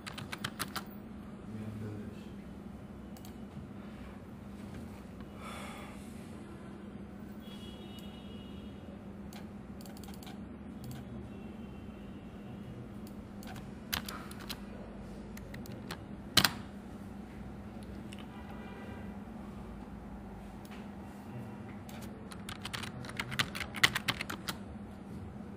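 Computer keyboard typing a Google search, light scattered key taps under a steady low hum, growing into a quicker, busier cluster near the end.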